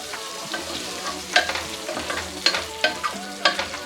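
Spinach gojju cooking in oil in a pan, a soft bubbling fry under repeated spoon scrapes and taps of stirring, close up with no voices.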